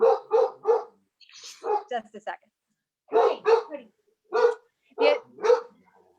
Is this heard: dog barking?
yes